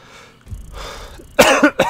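A person coughs a few times close to the microphone, a short burst of harsh coughs that is loud near the end, with quieter breathing and rustle before it.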